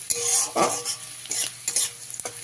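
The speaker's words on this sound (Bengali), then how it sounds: "আদা আর রসুন কুচিটাকে ভালো করে ভেজে নিতে হবে" Finely chopped ginger and garlic sizzle in oil over a medium flame for dahi bhindi masala, a brief bright crackle punctuated by a few distinct scraping stirs in the pan.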